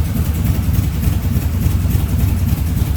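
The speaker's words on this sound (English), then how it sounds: "Nice smooth running engine." A 1967 Chevrolet Camaro with a 383 stroker small block Chevy and Edelbrock Performer intake idles steadily, a deep, even, continuous rumble heard close and loud with no talk over it.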